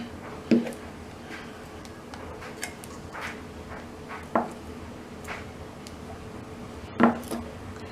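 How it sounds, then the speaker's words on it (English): A knife cuts 8 ounces of butter into pieces on a board, giving a few sparse, soft taps and knocks spread out over quiet background. "I've got 8 ounces of butter here, and I'm just going to cut this up just a little bit."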